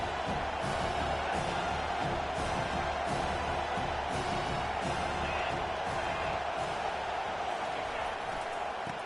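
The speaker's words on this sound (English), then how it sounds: "This crowd knows this defense needs them right now." A packed stadium crowd in the College Football 25 video game roars continuously and loudly, a dense, unbroken wall of cheering that swells slightly now and then.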